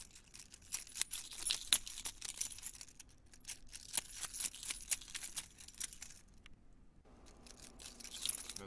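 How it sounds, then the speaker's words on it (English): A recorded sample of keys jangling, with bursts of bright metallic rattling and clinking repeating over several seconds against quiet background noise. "the keys."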